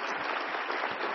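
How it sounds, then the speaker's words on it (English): Audience applause after a keynote talk at a business software conference: a short, steady burst of dense clapping that holds even from start to finish, with no voices over it. "Please, a big round of applause."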